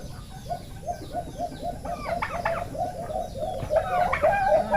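Pet turkeys make soft, repeated clucking and purring calls in a steady pulsing rhythm after feeding. Several birds sound close by, and a few louder chirps and gobble-like calls break through near the end.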